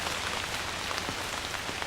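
Heavy tropical rain falls steadily over the Corcovado jungle, a dense, continuous patter of drops hitting leaves and surfaces, loud and even throughout with no voices.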